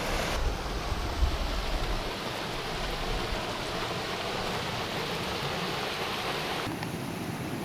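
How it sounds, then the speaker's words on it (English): A small mini waterfall in a forested national park outside Mexico City: steady, broadband rushing water fills the scene evenly and continuously, fairly close, with no voices. "We have our own little mini waterfall."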